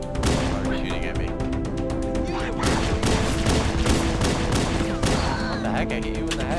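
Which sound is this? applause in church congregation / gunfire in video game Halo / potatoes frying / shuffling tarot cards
gunfire in video game Halo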